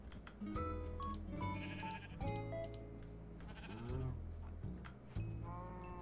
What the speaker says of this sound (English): I feel like I definitely should separate the sheep